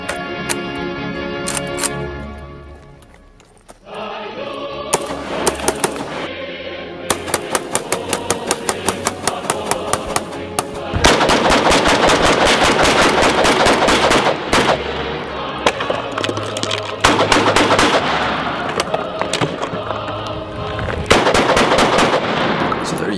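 A 12 gauge shotgun firing solid slugs at iPhones. Sharp, loud blasts and cracks come in quick repeated bursts over a noisy, reverberant background.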